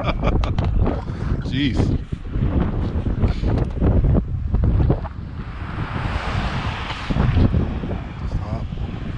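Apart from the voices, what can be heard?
wind blowing across the microphone outdoors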